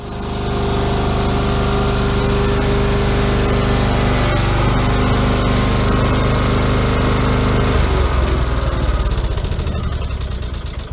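A Craftsman riding mower engine runs steadily and loudly, its constant drone holding through most of the span before a slight change in pitch near the end; no voices are heard.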